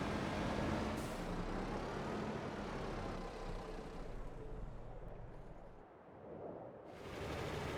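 Engine rumble of a wheel loader and forage wagon in Farming Simulator 22, a steady broad drone with a hiss of air, easing off briefly before surging back at full strength.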